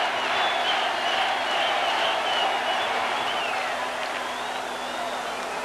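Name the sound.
stadium crowd clapping at a football match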